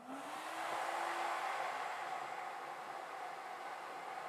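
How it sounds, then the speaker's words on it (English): A workshop vacuum motor runs steadily with a broad, even whooshing roar and a faint rising whine at the start, with no voices. "We're going to get the vacuum on."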